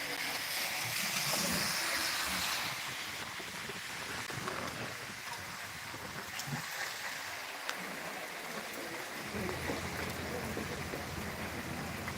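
Torrential rain pours down in Surva as a dense, continuous roar of water that is loudest at first and then settles into a steady wash, with faint voices somewhere in the background.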